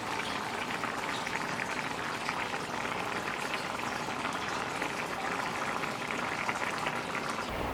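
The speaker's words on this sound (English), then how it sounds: "things are a bubbling and a sizzling and a popping in here" Spicy dirty rice bubbles in a pot at a rolling boil, a continuous soft, dense fizz of popping bubbles, steady and fairly quiet with no voices.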